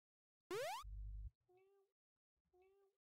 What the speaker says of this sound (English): every time that our player throws a furball, it will meow.